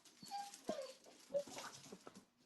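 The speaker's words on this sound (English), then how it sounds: "my dog's barking" A dog gives soft whimpers and short yips indoors, several brief whiny calls spread across the moment, fairly faint and without speech.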